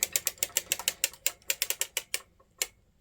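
A circular sock machine clicks rapidly as it knits flat fabric, a crisp ratcheting rhythm of close, bright mechanical ticks that slows and stops, then one final click.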